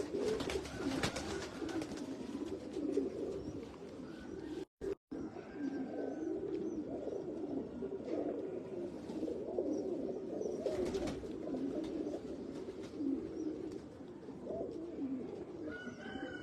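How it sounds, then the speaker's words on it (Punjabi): Young dabb-marked breeder pigeons, from a purebred line, coo steadily and softly in a low continuous rumble with a few brief knocks, broken by a short silence. "ਡੱਬ ਵਾਲੇ ਕਬੂਤਰਾਂ ਦਾ ਪੱਠਾ।"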